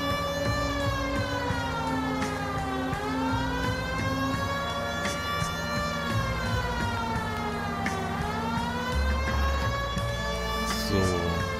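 Wailing police siren fitted to a private car in the video game L.A. Noire, rising and falling in long sweeps over a low engine rumble, steady and continuous.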